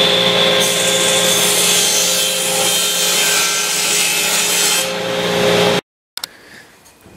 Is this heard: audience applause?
no